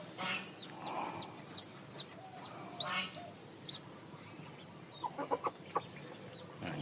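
Chickens cluck and chirp in short separate calls spaced through the clip at close range, some brief and sharp, with no talking. The birds include a hen brooding eggs, one of which has just hatched.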